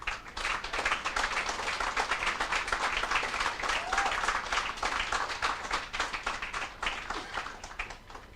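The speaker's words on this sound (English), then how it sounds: "let's give them a good, hearty round of applause" An audience at a Patriotic Front political meeting in Twin Walls, San Fernando gives a loud, sustained round of applause, dense clapping filling the whole stretch without a break.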